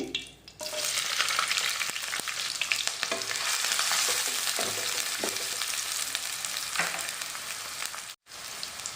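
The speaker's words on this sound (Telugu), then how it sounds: "ఇప్పుడు ఈ ఉల్లిపాయ పచ్చిమిర్చి వేసి ఫ్రై చేసుకుందామండి" Onion and green chilies frying in hot oil in a pan, a steady dense sizzle with occasional stirring scrapes, close and alone.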